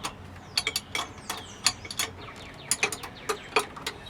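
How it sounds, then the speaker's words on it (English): A 9/16 closed wrench tightens Mercruiser exhaust riser bolts, producing close, quiet metallic clicks and ticks in irregular bursts, like a ratcheting mechanism, with brief pauses between turns and no talking. "I'm just going to use a 9/16 closed-in wrench, and I'm just going to kind of tighten them down in a crisscross pattern."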